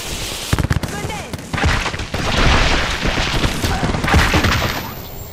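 A grenade blast amid a firefight in Apex Legends, sharp booms and rapid gunfire bursts followed by a loud sustained rumbling explosion wash, close and dense, with game voices speaking over it.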